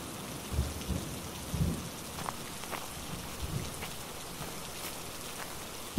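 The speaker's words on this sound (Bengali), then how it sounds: "দেখ কেমন বৃষ্টি হচ্ছে" Faint, steady rain falls on a surface, with a few soft low rumbles of thunder in the distance. No voices are heard.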